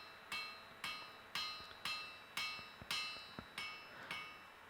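A hammer forges a second taper on an iron bar for a reproduction Sutton Hoo iron stand, ringing out in about eight evenly spaced, bright, close metallic blows with short decaying tails.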